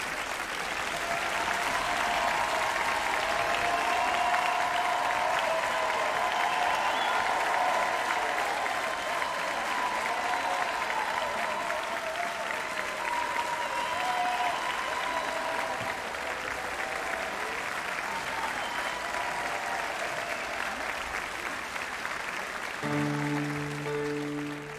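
Audience applause for a tenor at a large choir holiday concert, a steady wash of many hands clapping from a big crowd that holds for the whole stretch, with a few musical tones entering at the very end.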